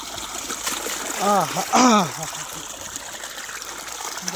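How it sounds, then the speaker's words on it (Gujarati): Water pours and splashes on a farm in a steady, close hiss, with a brief warbling voice rising over it for a moment. "જો અહીંયા પાણી પડે છે."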